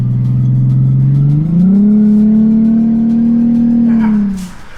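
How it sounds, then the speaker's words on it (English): A Nissan 370Z with a single exit exhaust revs up close and loud, the engine note climbing and holding a sustained high drone before dropping off at the end. "that wraps up the exhaust on the 370Z, and I think it sounds damn good"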